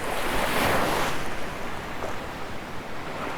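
Ocean surf rolls onto a Sanibel beach shoreline in a steady broadband wash, one wave breaking loudly near the start, then fading into a continuous hiss of water and wind noise.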